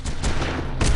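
A rail driver firing in Red Faction 2, a loud booming shot with a sharp burst near the end, close and heavy, filling a single second.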